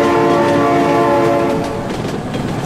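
Loud, sustained train horn in the BeamNG.Drive driving game, a steady multi-tone blast holding for a couple of seconds before easing slightly, with rail rumble underneath.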